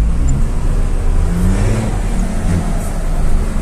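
A turbocharged car engine pulls uphill while driving, a loud, close, continuous drone with a low rumble and a rising whir, no voices heard.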